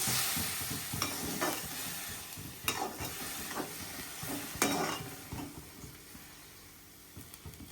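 Tomatoes and onions fry in a pan, a soft steady sizzle broken by several scraping stirs of a spoon against the pan, close and fairly quiet, with no voices.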